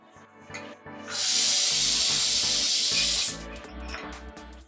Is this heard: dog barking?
no